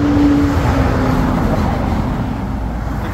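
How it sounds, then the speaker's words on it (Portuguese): Trucks and cars pass on a busy highway, a loud close roar of traffic that slowly eases, with a brief horn-like tone near the start. "Aqui é cheio de carretas o tempo todo."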